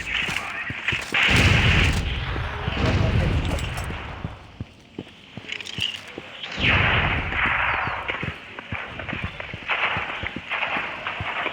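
Grenade blast in the video game Critical Strike, a loud booming explosion amid repeated sharp gunfire cracks and a second large burst later, with players talking under the combat.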